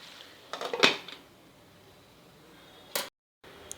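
A cooking pot of tondli bhaji being covered with its lid, with a metallic clink and rattle followed by a second brief knock, close and quiet in a kitchen.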